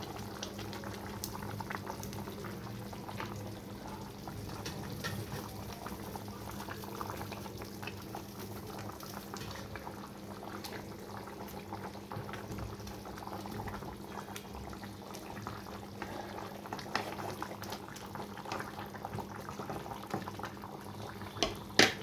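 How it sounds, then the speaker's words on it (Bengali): Chitol fish curry gravy boils steadily in a pot after hot water is added, giving a dense, continuous bubbling and simmering that stays close and even throughout, with a few small clicks near the end. "তো চিতল মাছটা দিয়ে একটু ফোটাতে হবে।"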